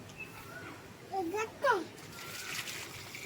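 Water from a bucket splashes onto potted plants outdoors in faint sloshing bursts, while a voice chatters in the foreground over a light background hiss.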